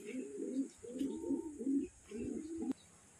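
Racing pigeons arriving back from a race from Atimonan, Quezon, cooing in a series of low, throaty bursts close by, with a faint background hiss.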